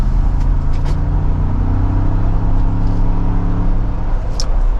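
A 2024 Ford Bronco Heritage Limited Edition pulls away under mild throttle, its engine giving a steady, close, low rumble that builds gently and stays even throughout, heard from inside the cabin with no talking.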